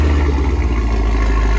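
A race car running E85 fuel at a Halloween car event, its engine loud and close, revving with a rough, throaty burble that rises and falls through a short burst, with no talking over it.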